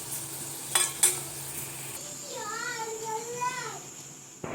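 Fritters fry in a pan at home with a soft, steady sizzle, broken by a couple of sharp utensil clinks and a drawn-out cat meow partway through.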